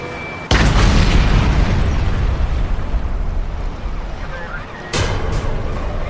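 A bomb blast in a documentary about Pablo Escobar's bombing campaign bursts out as a loud, deep boom that rumbles on, followed by a second sharp burst, alone without talk.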